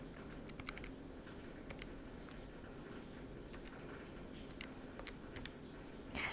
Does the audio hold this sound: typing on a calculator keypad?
yes